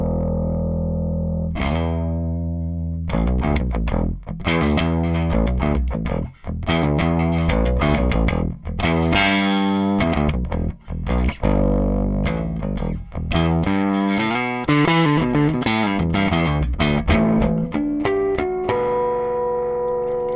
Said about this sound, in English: Left channel is bass pickup, right channel is distortion.